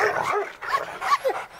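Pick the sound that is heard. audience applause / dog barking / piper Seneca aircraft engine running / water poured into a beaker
dog barking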